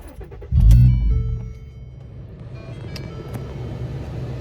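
A straight-piped 2012 Lincoln MKZ engine cranks and catches with a loud, close burst, then drops to a steady, fairly quiet low rumble at idle.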